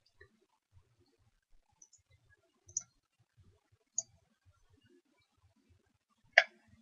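Computer mouse clicks while attaching a file in an application window: a few sharp, isolated clicks spaced over several seconds, with one louder click near the end, otherwise near silence.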